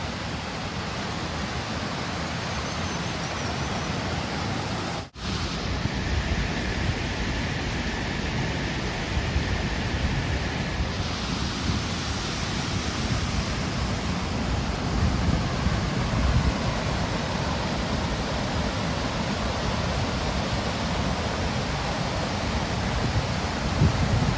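Heavy water flow from Majach waterfall near Manali in the Nehru Kund forest, a steady loud broadband roar throughout, with a brief sharp drop near the start and no voices.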